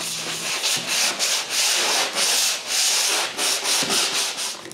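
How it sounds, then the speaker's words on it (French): Wooden rabbet edges are sanded by hand in a woodworking shop while a nine-drawer chest of drawers is being built. The rubbing is close, loud and steady, coming in rhythmic back-and-forth strokes with no talk. "j'ai juste à nettoyer un peu les bords des feuillures"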